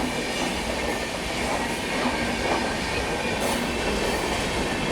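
Passenger express train rolling through an Indian station, a steady loud rumble of wheels and carriages with faint squeal, continuous and close throughout.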